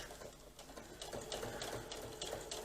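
A sewing machine stitches a bag lining in a steady, fast mechanical whir of needle strokes, fairly faint and continuous throughout, with no talking.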